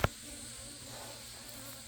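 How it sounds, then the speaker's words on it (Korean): Black-backed hornets buzz steadily at close range near native honeybee hives, a continuous droning hum with several insects overlapping, after a brief knock at the start. "아따 등검정들 무지하게 옵니다"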